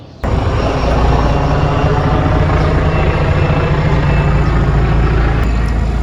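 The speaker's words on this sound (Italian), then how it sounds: "Elicottero Apache." An Apache military helicopter passes overhead, a loud broadband roar with a deep throbbing rumble that starts abruptly and holds steady and close throughout.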